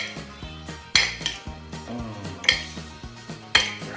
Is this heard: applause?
no